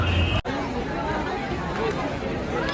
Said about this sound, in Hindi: छोटा प्लेटफॉर्म होने की वजह से इतनी भीड़ हो गई है।